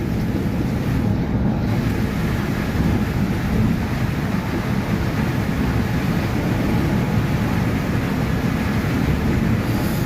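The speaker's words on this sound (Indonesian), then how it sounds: "Hujan deras dan angin kencang." Heavy rain and strong wind batter a double-decker bus travelling in a storm, a loud, steady broadband roar with low rumbling buffeting that holds without letup for the whole stretch, no voices present.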